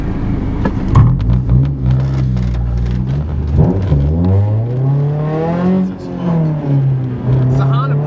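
A 2JZ-swapped Nissan 300ZX engine starts after a jump start and revs, its deep rumble rising and falling through several throttle blips, loud and close throughout.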